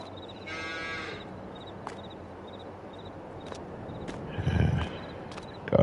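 Cows moo in a slatted barn in the Farming Simulator 22 video game, with a few drawn-out calls rising over a steady low rumble of barn ambience and scattered light clicks, the loudest moo near the end.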